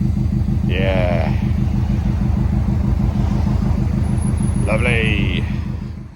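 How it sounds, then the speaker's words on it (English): A passing vehicle, likely a car or motorcycle, goes by twice on a road near a started-up old machine, whose steady low engine rumble runs throughout under the brief louder swells of the traffic. "Sorry, bit of traffic noise coming past"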